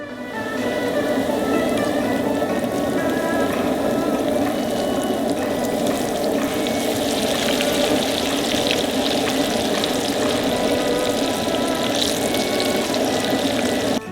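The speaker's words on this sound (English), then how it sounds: "We go outside to deep fry our carp." Starch-coated carp deep frying in hot oil outdoors, a loud, dense, continuous bubbling sizzle that holds steady throughout, close by and with no talking.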